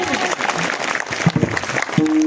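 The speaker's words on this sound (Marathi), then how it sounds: "जोरात टाळ्या वाजवा सगळ्यांनी" A kirtan audience claps briefly and loosely, the scattered hand claps mixed with crowd noise and voices, ending in a sustained tone.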